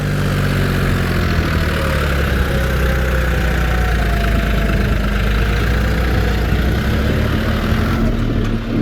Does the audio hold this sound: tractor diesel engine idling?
yes